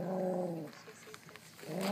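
A dog growls low and harmonic at close range, a rumbling snarl at the start and again at the end with quieter scuffling between.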